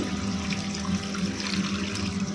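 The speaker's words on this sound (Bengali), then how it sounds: "চালটা ভালো করে ধুয়ে তারপর জল দিয়ে রাখবো" Rice for a Bengali biryani is washed under running water. A steady, even rush of tap water splashes into a vessel throughout, close by, with no voices.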